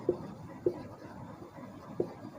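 Pen or chalk strokes during a physics lesson, three short distinct taps or scratches spaced apart over a quiet room background.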